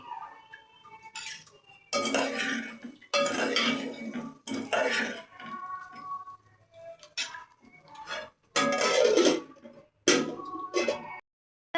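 A lid clatters onto a frying pan of egg fry seasoned with coriander powder, amid a series of close, sharp metal clanks and clinks in separate bursts, with quiet gaps between them.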